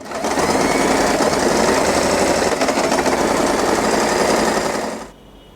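A sewing machine stitches cotton ribbon tape onto fabric in a steady, loud, rapid mechanical run lasting about five seconds, then stops abruptly, leaving a faint quiet tail.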